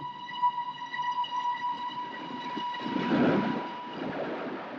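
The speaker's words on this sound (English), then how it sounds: "No, it's the express. The boat train." The express boat train passes straight through a station, opening with a sustained horn tone that gives way to a swelling rumble of wheels and carriages, moderately distant and fading slightly at the end.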